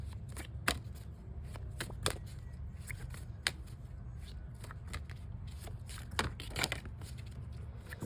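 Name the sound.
tarot cards being shuffled and drawn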